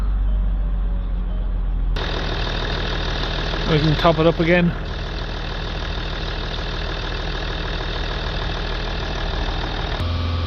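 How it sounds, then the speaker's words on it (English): A Range Rover 3.0 engine, coolant just refilled, cranks and starts about two seconds in, then idles steadily and fairly loud, with a person speaking briefly over the running engine. "get the engine started up."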